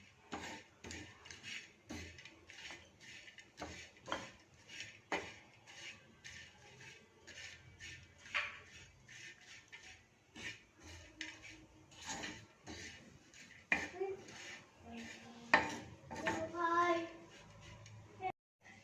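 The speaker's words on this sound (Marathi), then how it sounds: "हे सुद्धा हलकं हलकं भाजून घ्यायचं आहे इथे मी एक वाटी खोबरं घेतलेलं आहे ते सुद्धा आपण छान भाजून घ्यायचं आहे" Grated coconut dry roasted in a pan for flax seed chutney gives soft scraping and clinking of a utensil against the pan, irregular and close, with a few louder metallic knocks near the end.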